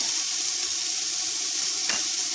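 Okra tomato stew ingredients sauteing in a pan, a steady broadband sizzle holding evenly throughout with one brief soft scrape near the end, close and moderately loud with no voices.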